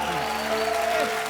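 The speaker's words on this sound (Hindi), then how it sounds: "जोरदार तालियां हो जाएं।" Studio audience applause at a television comedy show, a steady wash of clapping running the whole brief moment, moderately loud with faint tonal music or voices underneath.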